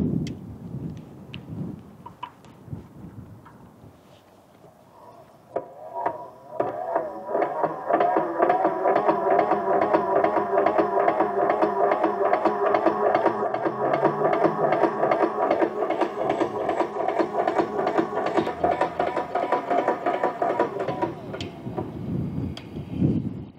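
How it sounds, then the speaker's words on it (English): A Geoprobe mechanical pump actuator with an electric drive and adjustable pump rate pumps groundwater for sampling. After a few quiet seconds it starts up with a loud, close, steady throbbing mechanical drone, pulsing rhythmically for about fifteen seconds before cutting off. "You can turn the pump on and you can adjust the speed, the pump rate at which you want to collect your samples."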